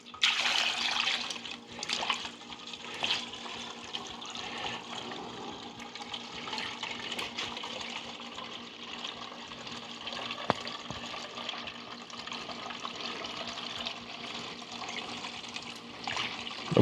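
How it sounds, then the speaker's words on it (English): Liquid poured from a gallon container into a small funnel, a steady trickling and gurgling stream lasting throughout, fairly faint with a few small knocks and splashes. "I'm hoping I can pour it in that little funnel without making a mess."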